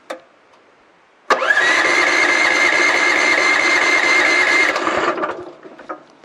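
A Mygale 500 micro excavator engine cranks and catches, running loud and steady at close range for about four seconds before dying down, with a few faint clicks before and after.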